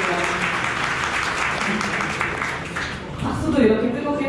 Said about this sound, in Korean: 박수도 이렇게 뜨겁게 보내주시고 정말 감사드립니다.